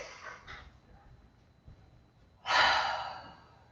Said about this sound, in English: Inhale deeply through the nose. And out your mouth.